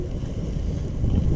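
Wind gusts across a lake around an open fishing boat, a continuous low rumbling buffet with microphone wind noise and no voices.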